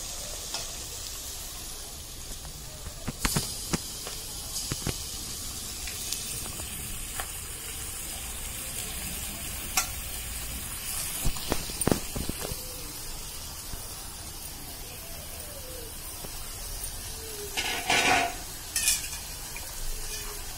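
Chicken pieces fry in oil in a pan for a Telangana-style chicken curry, giving a steady soft sizzle with occasional scrapes and clinks from stirring.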